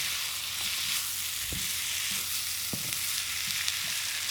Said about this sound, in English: Just mix, just want to mix them up, mix them even.